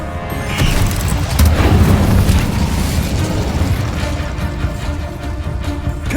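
A fire spell cast in a video game bursts out as a loud, booming blast with crackling fiery noise, sustained and dense throughout with no talking.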